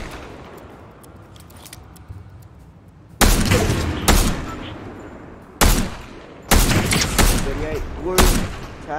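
Video game gunfire in loud close bursts, several dense volleys of shots separated by quieter stretches of low background noise.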